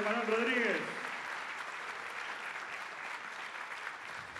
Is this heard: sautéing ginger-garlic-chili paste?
no